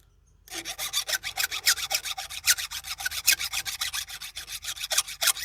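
A hand file rasps across the depth rakers of a chainsaw chain, a close, steady series of quick scraping strokes after a brief silence, rhythmic and alone.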